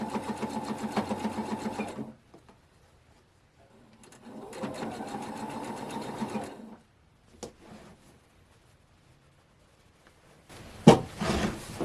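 A sewing machine stitches wonky courthouse-steps quilt blocks in short close bursts of fast whirring, stopping between runs with quiet pauses and faint handling of fabric, then a brief restart near the end.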